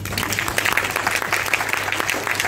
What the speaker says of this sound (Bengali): আজকে একটু শিশুর উচ্ছ্বাস নিয়ে হাততালি দিতে